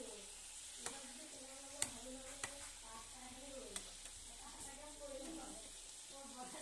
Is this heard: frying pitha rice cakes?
yes